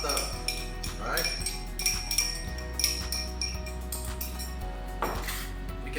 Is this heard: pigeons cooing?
no